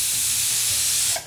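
Steam hisses steadily from a pressure cooker cooking arbi (taro root) on a gas stove, a broad continuous spray-like rush that cuts off abruptly near the end, with no talking.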